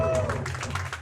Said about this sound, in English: Let's get a big cheer from the audience for the charity and this event.